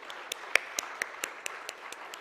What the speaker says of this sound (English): maybe we could start with a resounding round of applause just to wake us all up